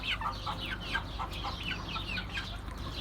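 Türken, Ameraucana and village chicks cheep in a steady, close chorus of high, repeated peeps, alone without talk.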